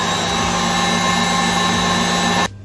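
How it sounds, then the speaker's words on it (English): An electric mixer whisks cake batter on high speed for a chocolate and caramel drip cake, giving a loud, steady motor whine that cuts off abruptly near the end. "Pop it on now and whisk it just on high speed for about 1 to 2 minutes"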